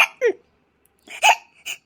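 A person hiccups sharply, one abrupt vocal hic followed after a pause by two more close together, with silence in between.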